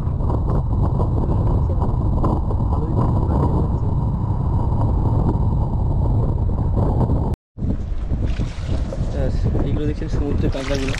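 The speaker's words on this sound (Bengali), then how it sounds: "প্রচন্ড হাওয়া হচ্ছে" Strong wind buffets a fishing boat on the Matla river in the Sundarbans as a constant loud roar. It cuts out for a split second and then returns just as heavy.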